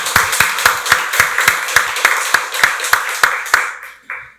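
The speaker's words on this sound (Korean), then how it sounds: "박수로 하나님께 영광 돌리겠습니다." A church congregation at a Sunday worship service claps in unison, about fourteen sharp, evenly spaced rhythmic claps ringing in a reverberant hall before stopping, with one final clap after a short pause.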